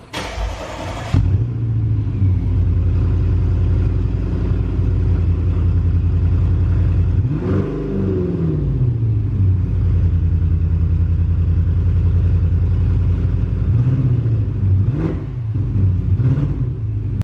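A straight-piped Ford Focus RS with no muffler, damaged in a rear-end collision, idles with a loud, steady rumble and revs sharply around the middle of the clip and again in a few quick bursts near the end.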